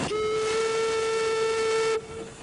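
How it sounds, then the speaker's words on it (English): A small steam-powered launch sounds its steam whistle in one steady, loud, sustained tone lasting about two seconds, then cuts off, leaving a faint hiss of the steam engine behind. "This elegant launch can go upstream or downstream irrespective of the wind. It's powered by a small steam engine."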